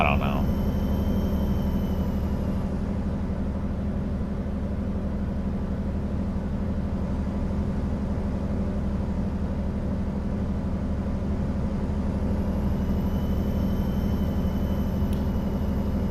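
A Kenworth T680 truck with a Paccar MX13 510 hp engine and Paccar TX12 transmission drones steadily while driving, a constant low engine hum heard from inside the cab.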